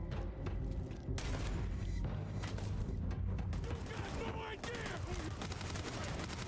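Rapid bursts of gunfire from the Grendel gun in the video game Starfield, loud and repeated in quick strings, with game effects and a voice talking over them.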